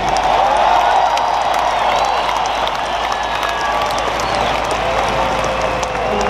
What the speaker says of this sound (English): Round of applause for our coaching staff.